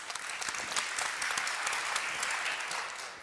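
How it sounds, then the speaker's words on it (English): A seated audience at an academic panel discussion applauds, giving steady, even clapping from many hands in a room throughout the short stretch. "Let's make an applause for Theda."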